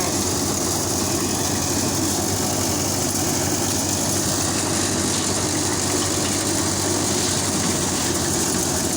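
A tractor-driven wheat threshing machine runs steadily and loudly throughout, a continuous low engine drone with broad mechanical rumble and whirring, close and unbroken, with no speech.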